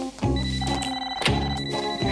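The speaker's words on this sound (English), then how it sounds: "Your toaster's ringing." A magic toaster in an animated Sabrina the Teenage Witch cartoon rings like an old telephone bell, with two loud jangling bursts of rapid metallic ringing and brief gaps between them.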